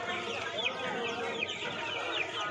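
Many chickens clucking and squawking together at a crowded Kolkata bird market, with a steady dense chorus of hen calls throughout.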